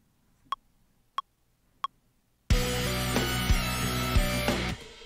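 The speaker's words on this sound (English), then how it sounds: "I just made a lead sound." A synthesized lead patch for metal music enters after three short clicks, playing a loud, dense sustained tone with a few note changes before cutting off.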